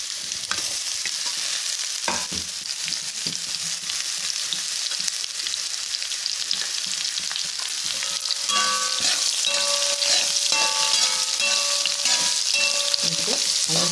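Beetroot frying in a pan with garlic and curry leaves, a steady bright sizzle with scattered stirring clicks and scrapes, close and continuous with no talking.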